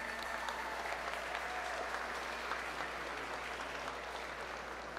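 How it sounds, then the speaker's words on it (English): An audience at a live entrepreneurship presentation claps in steady, dense applause that holds evenly throughout at moderate loudness. "Can we please give them a round of applause?"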